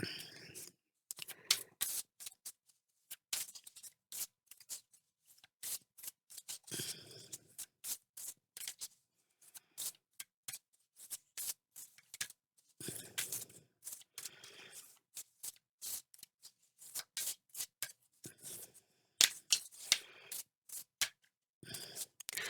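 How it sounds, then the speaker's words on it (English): Close, crisp shuffling of a new tarot deck: rapid bursts of riffling and snapping cards, repeated in irregular runs with short pauses between, no talking. "It's a new deck, so it shuffles weird."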